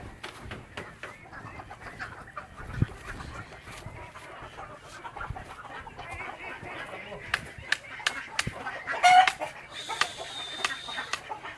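Broiler chickens and roosters cluck and chatter nearby on a farm in short bursts, with people talking over them.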